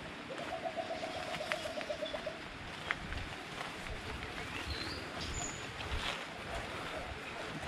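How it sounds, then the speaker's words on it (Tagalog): Birds cooing outdoors: a soft, repeated dove-like coo phrase in the first couple of seconds over a rustling outdoor background, with faint distant calls and a murmur of voices. "Ibon."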